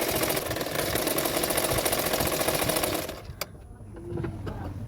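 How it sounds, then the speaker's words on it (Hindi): Electric sewing machine stitching along the folded-back edge of a katori blouse, a steady fast whirring hum for about three seconds, then stopping into quieter room noise. "इस तरह से पीछे की तरफ फोल्ड करते हुए सिलाई कर रही हूँ।"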